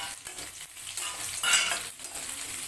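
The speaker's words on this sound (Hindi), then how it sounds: "प्याज को भी थोड़ा ब्राउन होने तक पका लेंगे हम।" Onions fry with garlic in a pan for munga bhaji, a close hissing sizzle broken by repeated spatula stirs and light scrapes against the metal, with no talking.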